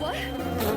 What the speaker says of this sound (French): Oh non, ce sont juste des abeilles.